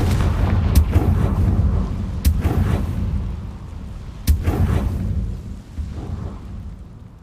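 Confringo fire spell blasts in Hogwarts Legacy, a few sharp cracking bursts with rumbling fiery booms rolling under a dense, continuous game soundscape, loud and close.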